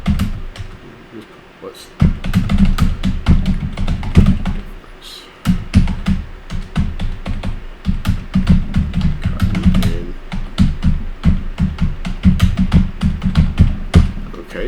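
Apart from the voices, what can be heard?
typing a post on a computer keyboard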